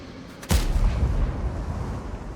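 A single loud tank cannon shot fires in the World of Tanks game, a sharp boom followed by a long low rumbling tail.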